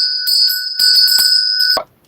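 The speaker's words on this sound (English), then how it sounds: "I'll ring the bell for you if you like." A handheld bell rung during a winter solstice gathering, giving bright, sustained metallic rings in a few quick shakes close up, then cut off abruptly.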